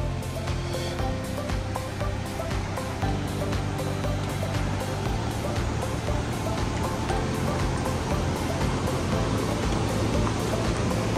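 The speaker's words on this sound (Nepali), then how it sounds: "खोला गाइज खोला खोला कल कल" A mountain river on the Langtang trek rushes in a steady, broad roar of flowing water, close and continuous throughout.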